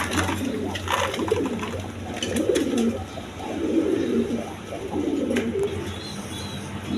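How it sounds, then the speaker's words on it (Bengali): A pair of big Gopalganj pigeons, one male and one female, coo in repeated low rolling phrases across the whole stretch, close by, with faint distant chirps above. "এখানে এক পেয়ার গোপালগঞ্জের বড় পায়রা কবুতর আছে"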